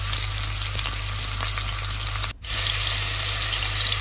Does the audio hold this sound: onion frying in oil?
yes